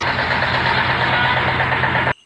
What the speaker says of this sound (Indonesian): tes proses mesin selip keliling ini setelah nyampe di tujuan